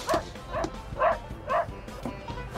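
Short yipping barks from a dog in the Cowboy Bebop anime, four quick bursts spaced about half a second apart, fairly close and moderately loud over a low background hum.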